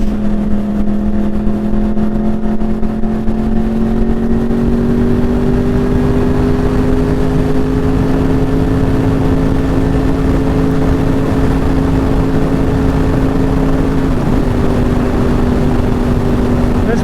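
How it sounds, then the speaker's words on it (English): A Yamaha R1 with a crossplane inline-four engine holds a steady, loud drone, its pitch climbing slightly as the bike pulls through a long stretch of road, continuous from start to finish. "Nothing beats the sound of this crossplane inline 4."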